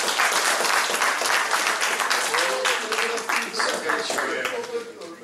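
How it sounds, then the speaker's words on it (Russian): An audience applauds after the final talk at a high-energy astrophysics conference, sustained dense clapping filling the room, with a voice briefly audible under it. "Давайте похлопаем последнему докладу."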